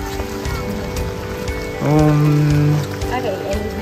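Steady rain falls on Seorak Mountain in South Korea, a constant close hiss with a brief tonal hum rising over it midway and faint voices nearby.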